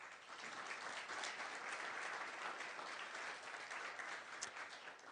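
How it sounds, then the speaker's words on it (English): An audience at an annual art auction gives a sustained round of applause for sponsors, a dense, even clapping that holds steady for several seconds, moderately loud and without talk. "So please join me in giving them a round of applause."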